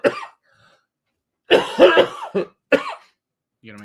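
A man on a radio show coughs in a short burst, then after a pause lets out a longer run of harsh, close coughs and throat clearing, with a brief voice at the very end.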